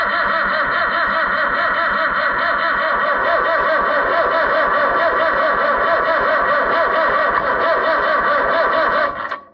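An Oliver 1365 tractor engine cranks steadily on the starter without catching, a loud, even rhythmic churning that runs for about nine seconds before cutting off abruptly.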